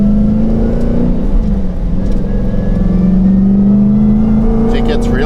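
Loud, throaty supercharged 426 HEMI engine in a 2010 Dodge Challenger SRT8 running close by, its pitch rising as the throttle opens, with a whining supercharger hum riding over the rumble.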